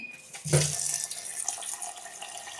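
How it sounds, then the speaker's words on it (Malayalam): Water pours in a steady stream into a pot holding jaggery and cinnamon bark, starting with a splashy gush and settling into a continuous trickle. "ആവശ്യത്തിന് വെള്ളം ഒഴിച്ച്"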